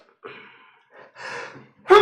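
A single short, sharp sneeze bursts out after a couple of soft breathy sounds, close and fairly loud.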